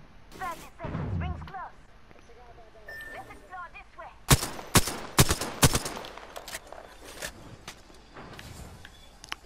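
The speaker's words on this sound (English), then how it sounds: "someone's shooting at me? It's probably a Kraber" Kraber sniper rifle in Apex Legends fires a quick run of four or five loud, sharp cracks about half a second apart, following a spoken remark; game sounds and faint talk surround them.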